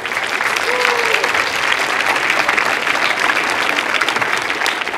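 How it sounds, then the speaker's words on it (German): Applause from the audience at a science slam in Karlsruhe, a loud, even, sustained roar of many clapping hands from start to finish, with faint voices mixed in. "Bitte nach vorne und deinen Applaus."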